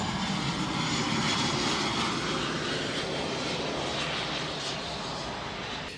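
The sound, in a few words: airplane landing nearby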